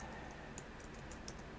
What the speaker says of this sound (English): I'm just typing thanks to her now.